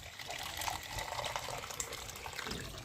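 Water is poured into a vessel holding fresh cow-dung fertilizer, a steady close gushing splash that runs unbroken for a few seconds at moderate volume.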